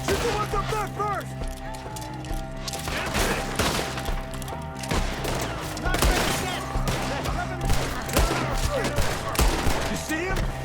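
Dense gunfire in a Red Dead Redemption 2 shootout, with rapid overlapping shots and impacts against a music score while characters shout during the fight.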